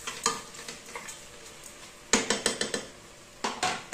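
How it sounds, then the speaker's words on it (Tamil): Tomatoes sautéing with salt in a pan, with a spoon stirring and scraping against the metal in bursts of quick clatter over a low sizzle, close and without talk. "தக்காளியும் சீக்கிரம் வதக்கிடும் இந்த சமயத்தில் உப்பு போட்டோம் அப்படின்னா"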